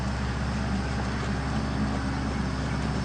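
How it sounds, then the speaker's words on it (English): A tractor engine's steady low rumble idles continuously in the background at a horse jumping session, a constant droning hum with no voices and no clear rise or change. "Tractor seems to be starting up again behind me."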